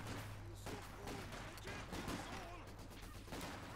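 Maxim machine gun fire in a WWII strategy game battle, a steady low-level rattle of bursts mixed into a busy battlefield din with other gunfire and explosions.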